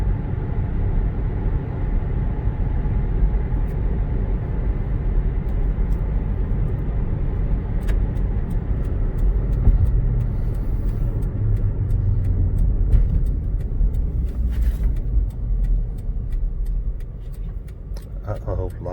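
A 2005 Toyota Highlander with a 3.3 V6 accelerates through its gears at moderate throttle, producing a continuous low cabin rumble with faint shifting changes, heard from inside the vehicle with occasional clicks near the end.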